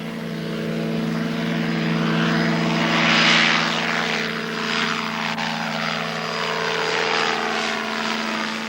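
A small light aircraft's propeller engine drones steadily in flight over Africa, loud and close, recorded on board, with a constant engine hum and no speech.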